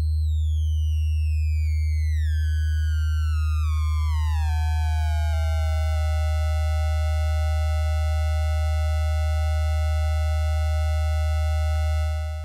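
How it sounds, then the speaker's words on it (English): Pure sine tone run through a ReduXer bit and sample reducer eurorack module, its pitch sweeping downward with rising stepped harmonics as the redux increases, then holding steady; loud, continuous, alone over a strong low hum. "If we then increase the redux, we're just going to increase the jaggedness of that signal as well."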